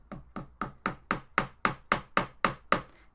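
About ten even, sharp hammer taps on studs being set through cardboard held on the edge of a chair, close and crisp with a steady rhythm and no talk.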